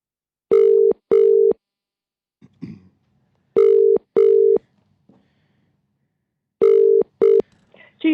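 A telephone line rings during an outgoing call with the classic double-burst ring-ring pattern, three pairs of loud, clean tones separated by silence and a few faint rustles.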